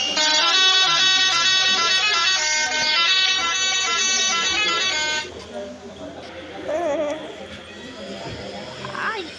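A loud, sustained vehicle horn blares for about five seconds, then cuts off, leaving road noise and people talking in the background.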